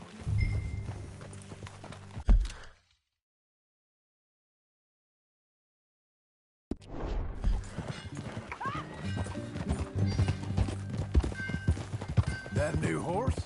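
Horse hoofbeats from a ridden horse in a PS4 video game, rhythmic clip-clop under game music and spoken dialogue, cutting out to silence for a few seconds before resuming.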